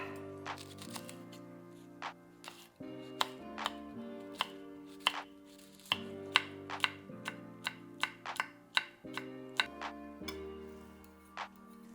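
Close, crisp knife taps on a cutting board as a serrano chile is chopped for mango pico de gallo, about twenty sharp strikes in an uneven rhythm over soft background music.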